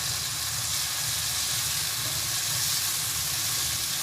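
Potato and green chilli masala simmering uncovered in a pan after a cup of yogurt is stirred in, giving a steady, even sizzle and soft hiss throughout, close and alone with no voices.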